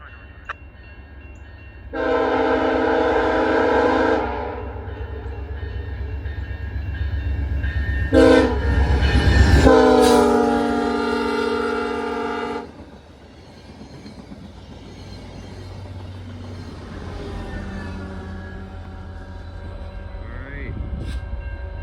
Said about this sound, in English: Here comes Via84 with 9:15 in the lead.